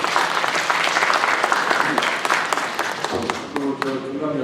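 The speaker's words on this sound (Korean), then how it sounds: "박수 한번 쳐주세요." Sustained applause from the crowd at a community meeting with the Sejong mayor, held in a rural township hall. The clapping is dense and even, with voices mixed in toward the end.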